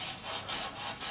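Rust is scraped off a Chevrolet IROC-Z part in a steady back-and-forth rasping rhythm, about three quick gritty strokes, close up and fairly quiet with no talking.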